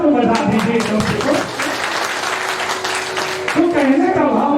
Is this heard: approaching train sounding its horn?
no